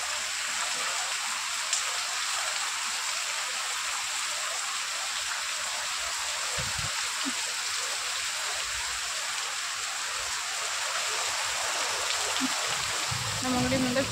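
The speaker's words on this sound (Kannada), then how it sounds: "ಈವ್ನಿಂಗಿಂದ ಎಷ್ಟು ಜೋರಾಗಿ ಮಳೆ ಬೀಳ್ತಾ ಇದೆ ಅಂದರೆ ಗಾಳಿನೂ ಹಂಗೆ ಇದೆ, ಮಳೆನೂ ಹಂಗೆ ಇದೆ" Heavy rain driven by wind pours down outside a shop, a dense, steady rushing roar that lasts throughout, broken only by a few faint low knocks.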